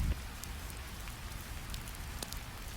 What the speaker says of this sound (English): Only the sound of distant wind, only the drip of mountain rain.